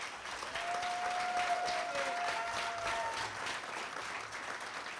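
Sustained applause from a banquet audience at the 2023 Seekonk Speedway NASCAR awards, steady and dense clapping that fills the room for several seconds, with a faint tonal whistle briefly rising over it.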